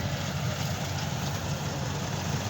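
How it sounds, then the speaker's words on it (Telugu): A tractor sits running in a harvested field, a steady low engine rumble and drone that holds constant throughout, with no talk over it. "అక్కడ ట్రాక్టర్ పెట్టారు"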